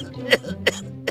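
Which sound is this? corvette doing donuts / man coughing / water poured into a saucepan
man coughing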